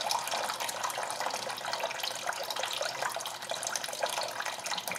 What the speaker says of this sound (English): you can see it there running into the drain pan